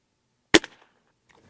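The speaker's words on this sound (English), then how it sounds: "We're going to shoot 5-shot groups, 2 of them, starting with the upper left bull." A Gamo Swarm Magnum .177 air rifle with a 10x scope fires one sharp, loud shot at a bullseye target. The crack is brief and close, followed by a short fading rattle and then quiet.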